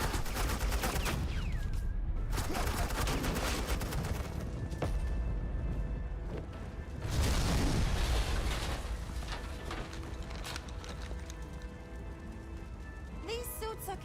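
Gunfire from suppressing fire in a Batman video game, dense bursts of shots running almost continuously under a busy game soundscape, with a loud swell midway and a voice speaking briefly.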